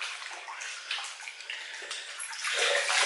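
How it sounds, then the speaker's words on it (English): A flannel is rinsed in lukewarm water and squeezed out, giving a steady, close splashing and trickling like water running into a basin, louder toward the end, with no voices. "take the flannel again, some lukewarm water, rinse that, squeeze that out"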